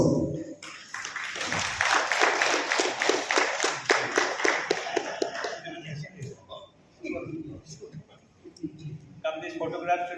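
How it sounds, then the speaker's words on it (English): Audience applause at a Khasi-language event in Sohra, a few seconds of dense, steady clapping that fades out, followed by someone speaking into a microphone. "Ladies and gentlemen, a big round of applause"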